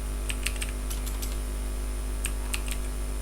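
Code is typed on a computer keyboard in a few quick clusters of crisp key clicks separated by pauses, over a steady low electrical hum.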